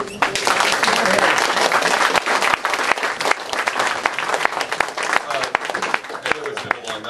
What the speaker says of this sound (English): If we get one last round of applause for our speaker